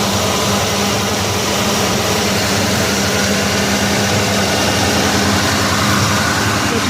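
A 1970 Oldsmobile Cutlass SX convertible runs with a steady, loud engine drone and low rumble, holding an even note throughout without talk.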